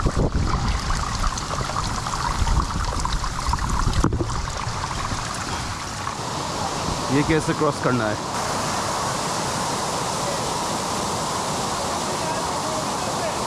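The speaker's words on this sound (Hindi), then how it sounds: "बीच में से ऐसा पानी बारिश के टाइम में बहता रहेगा" Rainwater stream rushing across a rocky monsoon trail at Visapur Fort in poor visibility, a steady, close wash of flowing water with a voice speaking briefly over it.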